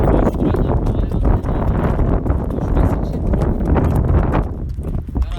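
Horse hooves clip-clop steadily on the ground in a dense, continuous rhythm of close, fairly loud strikes, with some wind rumble on the microphone.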